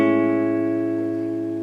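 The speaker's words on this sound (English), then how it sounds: "a major seventh chord is comprised of a root, a major third, a perfect fifth, and a major seventh." A major seventh chord (root, major third, perfect fifth and major seventh) rings out as one struck chord and sustains steadily for under two seconds, fading slightly, with no talking.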